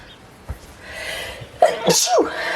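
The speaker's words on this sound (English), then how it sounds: "he's sneezing away" A sharp sneeze bursts out after a few small breaths and sniffs, followed by a second quick sneezing sound, close and loud.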